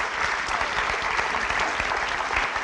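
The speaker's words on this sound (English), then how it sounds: "I think we can all acknowledge that by giving these guys a round of applause" Steady applause from a large audience at a high school graduation ceremony, dense and even throughout with no break.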